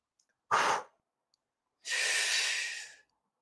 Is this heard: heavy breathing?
yes